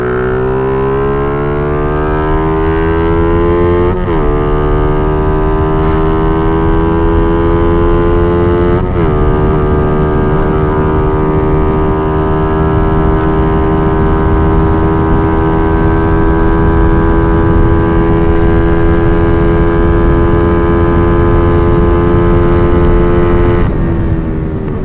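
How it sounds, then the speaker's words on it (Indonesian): A loud motorcycle engine with a WRX racing exhaust, revving up through the gears and holding a high, steady drone, with two brief shifts along the way. "Oke, itu hasil dari pengujian knalpot WRX."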